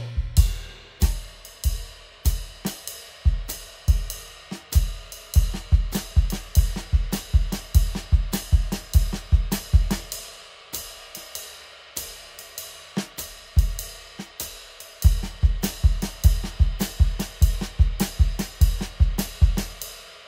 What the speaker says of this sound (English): we're gonna play 2 bars of time and then 2 bars of this sticking